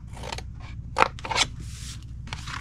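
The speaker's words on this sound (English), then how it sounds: "cut it to the first score line, and wedge this square." Scissors snip through cardstock along a score line in a paper-crafting treat box project, several quick crisp cuts in close succession, near and clear with no talking.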